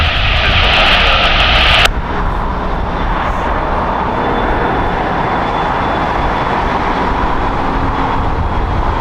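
A jet airliner powers up for takeoff on runway 25 right at LAX, a brief hiss of radio chatter cutting off into a continuous loud roar of engines.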